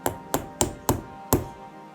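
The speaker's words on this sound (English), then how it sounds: "Position the nail on the dot and gently tap" A hammer gently taps a nail into the side of a tin can to pierce it, giving five sharp, close metallic knocks, evenly spaced over about a second and a half, each with a short ringing decay.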